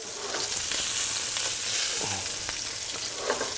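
Fish fries in a hot pan just after being flipped, a loud continuous sizzle close by with small crackles and spatula scrapes and no voices.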